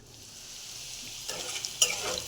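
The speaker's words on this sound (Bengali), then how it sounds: "কালো জিরে আর শুকনো লঙ্কা ফোড়ন দিয়েছি, আর পেঁয়াজ দিয়েছি" Onions sizzle in hot oil tempered with black cumin and dried red chili, a soft frying hiss that swells as a spatula stirs and scrapes the pan, with a brief clatter near the end.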